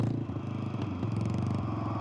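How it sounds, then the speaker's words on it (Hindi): A motorbike approaching from behind on a deserted road drones with a rough, pulsing rumble throughout, steady and fairly close, with some clattering on top. "तभी अचानक पीछे से बाइक की आवाज सुनाई देती है।"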